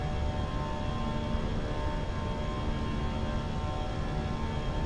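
Engines of a BA Airbus A320 climbing out in a flight simulator game, a steady loud broadband roar with a faint constant whine, unbroken and with no voices.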